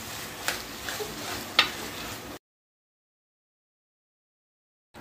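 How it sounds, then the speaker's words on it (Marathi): Mashed eggplant sautéed with softened tomato in a pan gives a soft sizzle and a few stirring scrapes for about two seconds, then the sound cuts to silence. "आता आपण हे वांग परतून घेऊया।"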